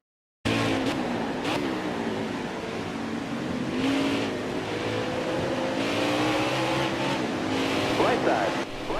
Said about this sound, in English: the engine sounds the same